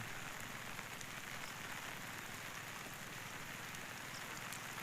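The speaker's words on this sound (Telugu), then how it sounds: "ఎన్ని రోజులకి అంత ఫుల్గా వస్తుందో వర్షం" Rain falls in a steady, dense hiss of drops on surfaces, continuous and even throughout, fairly soft and with no voices.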